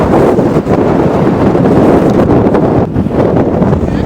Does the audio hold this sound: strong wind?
yes